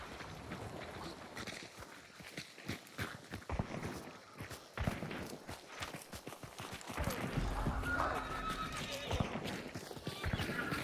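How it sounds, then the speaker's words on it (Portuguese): Horse neighing and whinnying in the video game Hunt: Showdown, with clip-clop hooves and footsteps throughout and a busy game soundscape behind, fairly close and moderately loud. "Cavalo!"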